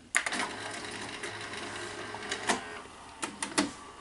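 A Sanyo 4020 Betamax VCR's tape mechanism whirs and clatters steadily, a close mechanical hum with a few sharp clicks and knocks toward the end.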